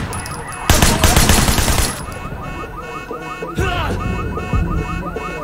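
Heavy automatic gunfire bursts loudly for over a second during a firefight in Sleeping Dogs, followed by sustained crackling shots and sirens or alarms wailing in the background.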